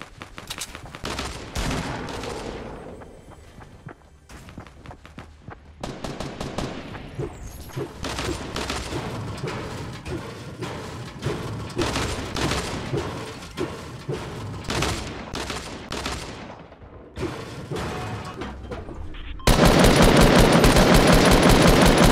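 Gunfire in the video game Fortnite, with dense bursts of rapid automatic shots and single cracks repeating through the clip, loud and close, ending in a sustained harsh roar.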